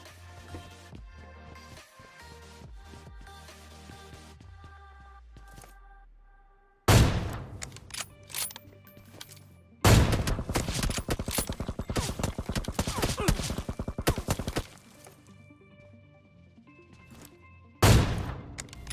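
Gunfire in the mobile battle royale game PUBG Mobile, with long loud automatic bursts after a quieter stretch and sharp single shots, close and dominating without speech.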